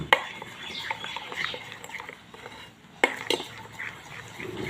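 A spoon stirs mint-flavoured dhokla batter seasoned with cumin, salt and a pinch of soda in a bowl, giving soft, quiet scraping and light clinks with a couple of sharper knocks against the bowl.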